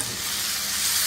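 Boiled green beans sautéed with onion and turmeric in a pan for a South Indian beans poriyal; a steady, close broadband sizzle and hiss fills the moment without pause.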